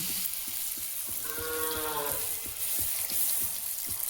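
Village-style palm fruit fritters (taler pithe) frying in hot oil give a steady, close hiss with faint bubbling crackle, while a brief low tonal call, like distant lowing, rises in the background partway through.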